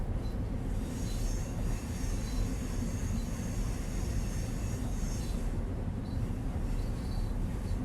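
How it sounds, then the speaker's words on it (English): Train rumbling steadily along the Harlem Line in Train Sim World 3, with continuous wheel and rail noise, faint high squeals, and a heavy low rumble throughout at a constant level. "It's actually quite a long train, isn't it?"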